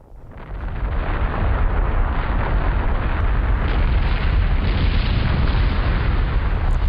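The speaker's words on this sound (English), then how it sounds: "And suddenly, there was a gigantic explosion, and the top of the great mountain was cast towards the heavens in a vast shower of debris" A gigantic explosion blows the top off a great mountain in a radio drama, rendered as a sound effect: a sudden boom swelling into a sustained, loud, roaring rumble that holds steady to the end, with no voices.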